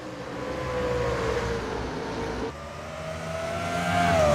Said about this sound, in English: Green flag, and we're racing at Kalamazoo.